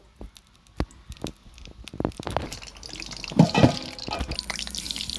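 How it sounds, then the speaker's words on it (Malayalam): Coconut oil poured into a pan for tempering, starting with a few scattered drips that build into a steady pouring trickle, close and fairly clear. "വെളിച്ചെണ്ണ ഒഴിച്ചു കൊടുത്തു"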